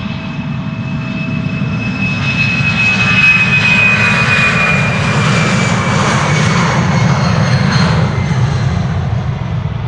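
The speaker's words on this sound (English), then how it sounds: "We have an E2 Embraer from KLM to Copenhagen waiting here." KLM Embraer E2 jet taxiing at Amsterdam Schiphol ahead of a Copenhagen departure: a loud, close engine whine and rumble with a high tone sliding downward, steady throughout, with no talk.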